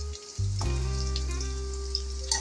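Garlic paste hits hot oil already holding fried chilies and browned onion for a spicy shrimp curry, setting off a loud, steady sizzle that jumps in suddenly and carries on close up, with faint crackles.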